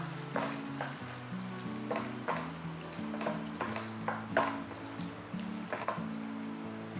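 Sautéed mushrooms stirred into a pan of sizzling chilli garlic sauce, a soft continuous sizzle broken by repeated clattering spoon strokes against the pan, fairly quiet and close, with no talking.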